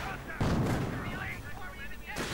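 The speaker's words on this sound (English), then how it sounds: "Mortar rounds heading somewhere." Mortar rounds firing in a multiplayer war video game, heavy booming blasts with rumbling echoes, one sharp report followed by sustained rolling thunder and another burst at the end.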